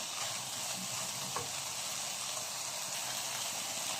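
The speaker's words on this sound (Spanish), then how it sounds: "Ahora le ponemos las pasas rubias. Acá, que vaya sofriendo acá." Golden raisins sautéing in a pan as filling for a stuffed Christmas turkey, giving a steady, soft frying hiss throughout with a faint clink of a utensil near the middle; no voices.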